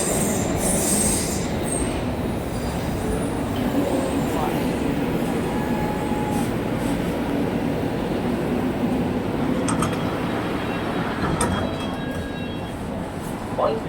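A London Underground train pulls into Finchley Road station with a steady loud rumble, rattling carriages and squealing wheels over about fourteen seconds, close by, and a faint voice is heard in the background.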